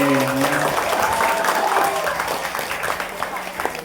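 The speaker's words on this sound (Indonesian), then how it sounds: "Tepuk tangan." Brief applause from a group, steady clapping that fades out over a few seconds while a voice speaks over it.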